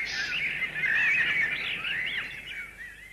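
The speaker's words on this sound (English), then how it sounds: "Rare pheasants and a variety of exotic birds preen and scream in the woods surrounding Edward's other English home" Rare pheasants and assorted exotic birds call and scream in English woodland surrounding a country estate, a loud, continuous chorus of squawking, chirping cries running through the whole stretch with no voices.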